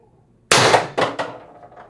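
A Beeman BP50 air pistol fires one shot on 800 psi high-pressure air, a sharp close crack followed by a couple of quick metallic clatters as it fades.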